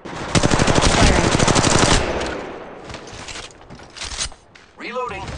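Rapid automatic gunfire from the mobile battle royale game Apex Legends Mobile, a loud sustained burst of shots for about two seconds, then quieter distant fire and in-game effects.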